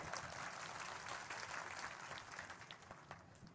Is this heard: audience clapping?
yes